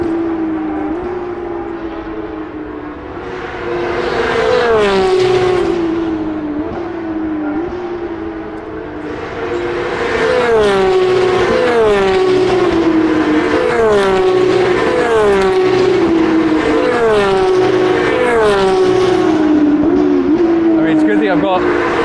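A stream of Formula 1 cars screams past at the Silverstone British Grand Prix, loud whining engines with repeated downshifts and pitch sweeps, several cars in close succession building to a sustained roar.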